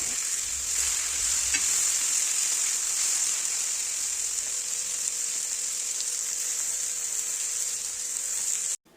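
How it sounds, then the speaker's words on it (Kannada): Fish frying in oil on a tava, a steady close sizzle with bright crackling that continues for several seconds and then cuts off abruptly, no voices. "ಇದ್ರ ಮೇಲೆ ಸ್ವಲ್ಪ ಸ್ವಲ್ಪ ಆಯಿಲ್ ಹಾಕ್ಕೊಂಡು ಚೆನ್ನಾಗಿ ಫ್ರೈ ಮಾಡಬೇಕು"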